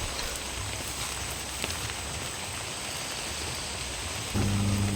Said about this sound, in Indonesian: Hujan masih turun.